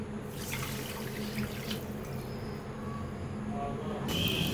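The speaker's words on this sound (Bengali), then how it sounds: "এখন সমপরিমাণ পানিও দিতে হবে।" Water poured into a wok of sugar to make a thin syrup for boondi: a steady continuous pouring rush at close range, lasting throughout with no talk.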